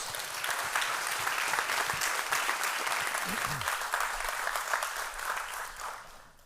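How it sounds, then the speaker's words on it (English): Audience applause welcoming a lecturer to the floor at an evening lecture, a steady wash of many hands clapping throughout, fading slightly toward the end. "So, please give him a warm applause."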